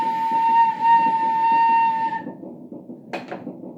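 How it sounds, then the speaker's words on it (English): A train whistle sounds as one long, steady, moderately loud blast, followed by faint rumbling and a couple of brief clanks. "late at night, I sometimes hear a far-off whistle blow."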